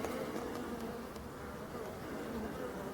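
Honeybees buzz at the landing boards of a hive entrance in mid-October, a dense, steady, close swarm drone lasting throughout with no voices.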